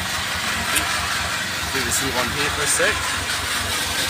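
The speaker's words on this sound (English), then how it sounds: "I have gotten the backup DC, yes, that's right, DC generator working." An old petrol-engine DC backup generator runs with a steady, loud, low mechanical rumble, while someone speaks close by over the noise.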